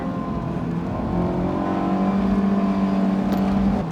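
A Honda S2000 sports car engine hums steadily from inside the cabin, its pitch dropping at a downshift approaching an S-bend, then climbing and holding as the revs rise.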